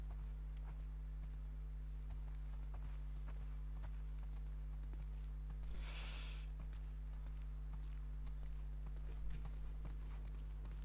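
Horse hooves clip-clop at a steady walking pace in The Last of Us Part 2, moderately close and fairly quiet against a constant low ambient hum, with a brief hiss of wind or rustle partway through.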